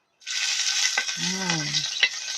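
Garlic drops into hot oil and bursts into a loud, steady sizzle, with a brief tonal murmur in the middle and a couple of utensil clicks.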